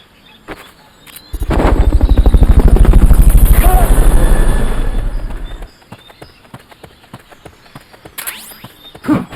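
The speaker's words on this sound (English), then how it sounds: "Fulton recovery helicopter is complete." Fulton recovery helicopter in Metal Gear Solid: Peace Walker, a loud thudding rotor drone swelling in, holding for several seconds and fading away, with sharp clicky game effects before and after.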